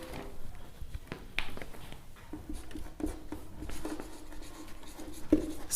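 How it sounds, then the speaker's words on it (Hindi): Chalk or marker writing on a classroom board during a geometry lesson, tapping and scraping in short irregular strokes at moderate distance with room noise and no speech. "चलिए मैं साथ साथ लिख भी देता हूं।"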